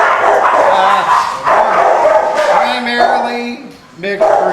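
Dogs of mixed breed bark and yip in a rescue kennel, a steady chorus of barking with whimpers beneath a voice talking throughout.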